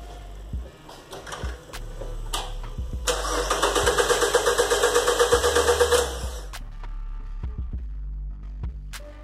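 An engine cranking over during a relative compression test, with a fast, even pulsing rhythm for about three seconds, then stopping without catching, with scattered clicks before and after.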